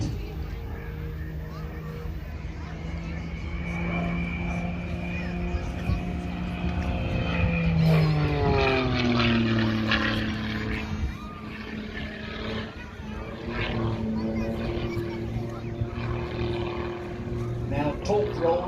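A Pitts propeller aircraft performs at an air show, its engine droning steadily with the pitch sweeping down and rising again as it manoeuvres, while a commentator talks over it throughout.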